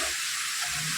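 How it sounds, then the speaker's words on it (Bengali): Hot oil spattering in a pan while mutton fries, a dense steady crackling sizzle heard close up for a brief moment. "দেখো জলের ছিটে তেলের ছিটে কেন পড়ছে"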